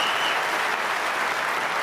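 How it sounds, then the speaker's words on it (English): A snooker crowd at a World Championship semi-final breaks into loud, sustained applause and cheering, a dense wash of clapping that fills the whole moment without a break. "And a terrific cheer for Barry Hawkins."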